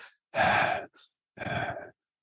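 Shallow, anxious breathing demonstrated by a man: two clear, loud breath bursts, each about half a second long, separated by short pauses, with no talking.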